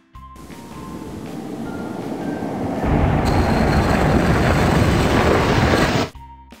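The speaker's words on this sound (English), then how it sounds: "When you apply the brakes, this results in the grinding sound you are hearing." Worn brake linings grind metal-on-metal against the brake disc while braking, a loud continuous rough scraping that builds and intensifies midway before stopping abruptly.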